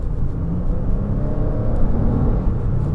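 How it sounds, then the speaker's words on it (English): A 2017 Lexus RX 450h hybrid with a V6 gives a steady, low, muffled engine rumble and whir as it accelerates, heard from inside the cabin at moderate level. "you can hear a lot more engine noise than before"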